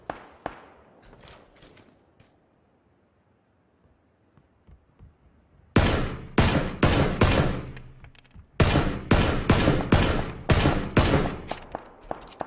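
Tommy gun fire in PlayerUnknown's Battlegrounds, with a few scattered shots, then quiet, then two long bursts of rapid, loud automatic fire, sharp and close.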